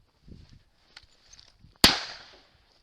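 A single loud gunshot cracks out during a wild boar hunt in Kastoria, Greece, a sharp blast with a fading outdoor tail, preceded by faint rustling and scattered small sounds.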